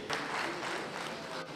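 Audience applause at a roundtable event in Nigeria, a steady, dense wash of clapping from a large crowd that holds from start to finish, loud and close with no voices over it.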